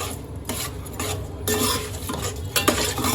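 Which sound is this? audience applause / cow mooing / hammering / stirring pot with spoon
stirring pot with spoon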